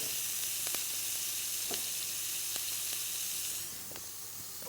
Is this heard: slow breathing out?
no